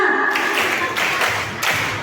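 Children clapping together at an Indonesian school children's gymnastics event, a few broad, loud claps in a group rhythm over a noisy hall, with no clean separated count of five.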